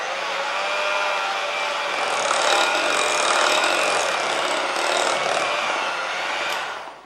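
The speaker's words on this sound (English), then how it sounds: "I'll just give it a whiz first before turning the machine on" Mixer whizzes chocolate cake batter for cupcakes with a steady, loud whirring drone that holds evenly throughout and stops at the end.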